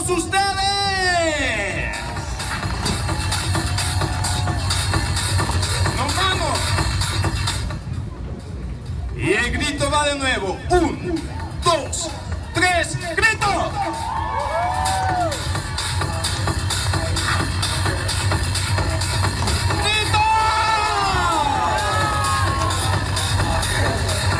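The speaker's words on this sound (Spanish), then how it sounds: "El ambiente y el aplauso para todos." A large crowd at a BMX bike stunt show in Acatlán de Osorio, Puebla cheers and whoops in waves, with an announcer talking loudly over the noisy, echoing arena throughout.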